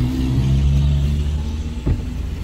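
A truck rolls along a busy town-centre avenue in Ouricuri, Pernambuco, a close, rumbling engine drone with low steady tones and a brief clunk near the end, no voices.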